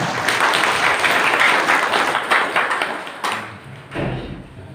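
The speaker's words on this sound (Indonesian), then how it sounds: "Kasih tepuk tangan" Crowd applause at a local Nahdlatul Ulama branch leadership election gathering, dense clapping that builds, then breaks off abruptly, followed by a brief thump.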